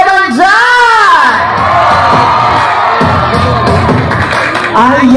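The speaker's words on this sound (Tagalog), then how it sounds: "Isang malakas na hiyaw naman dyan!" A large crowd at a pageant event cheers, shouts and whoops loudly without a break, a dense wall of voices with a few high individual screams standing out.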